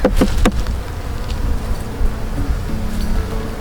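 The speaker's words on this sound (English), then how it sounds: "That's a lot of bees." Dense, steady buzzing of many honey bees up close as they are added to a hive, a continuous droning swarm with a few sharp bursts at the start.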